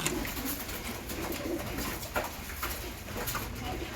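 Pigeons coo repeatedly in breeding cages, soft rolling calls overlapping at close to mid distance against a faint background hum.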